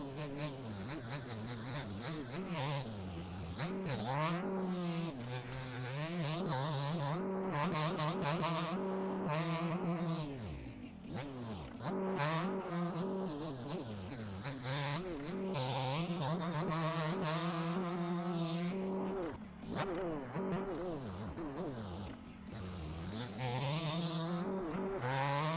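A two-stroke dirt bike engine in a motocross video game, revving and droning continuously with rising and falling pitch sweeps as the throttle shifts, loud and steady throughout with no talking.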